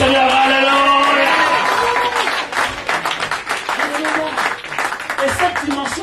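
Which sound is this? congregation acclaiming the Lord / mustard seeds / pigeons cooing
congregation acclaiming the Lord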